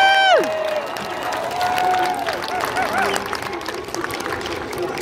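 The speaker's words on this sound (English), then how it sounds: "Round of applause." An audience applauds and cheers at a band performance event, with clapping and crowd noise throughout. A clear sustained tone and a sliding tone ring out at the start, and occasional shouts rise over the applause.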